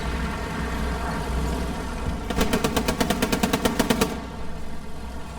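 Machine gun fire in a Hell Let Loose–style World War II match on the Chapel map in Utah: a rapid burst of about fifteen evenly spaced shots over a steady engine-like rumble, fairly close and loud.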